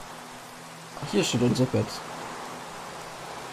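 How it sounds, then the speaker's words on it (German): Rain in the Minecraft video game, a soft continuous hiss running throughout as someone speaks briefly over it in the middle. "Aber es muss auch mal einen Regentag haben"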